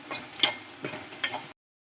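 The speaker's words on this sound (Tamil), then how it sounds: "எடுத்து எடுத்து கிளறி விடணும்" Three or four brief scraping stirs of a utensil through tomatoes sizzling in a pan, with a soft frying hiss underneath.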